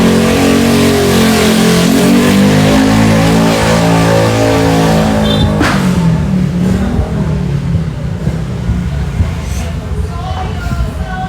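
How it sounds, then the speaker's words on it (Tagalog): A loud motorcycle engine roars and revs close by, its pitch rising and falling, then settling into a rough, noisy idle. "Wow, ang ingay ng motor."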